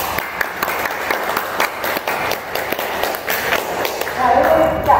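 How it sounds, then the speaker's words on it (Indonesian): Audience clapping at a leadership talk, a dense patter of applause with sharp individual claps, mixed with background voices and some thumping steps. "Boleh tepuk tangan guys ya."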